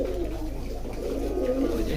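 Domestic pigeons coo softly and continuously nearby, a low murmuring burble over a steady background hum, with no voices.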